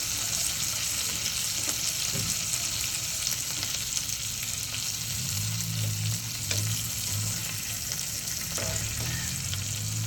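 Crispy elephant foot yam (suran) slices fry in a pan with coriander sprinkled on top as they are flipped. A steady, fairly soft sizzle runs throughout, with faint scraping and stirring noises now and then.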